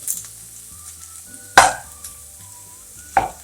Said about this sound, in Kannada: ಆಲೂಗಡ್ಡೆ ಎಲ್ಲ ಕೆಂಪಿಗೆ ಹುರ್ಕೊಂಡು